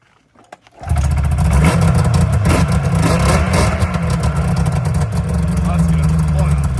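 A rebuilt snowmobile engine starts and then runs loud and steady with a deep, rough idle and a few sharper revs, recorded close for several seconds.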